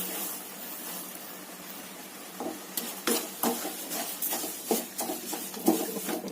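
Grated carrot halwa stirred in a pan with milk and sugar over a medium flame: soft wet scraping and sloshing strokes under a faint sizzle, growing busier and more rhythmic toward the end.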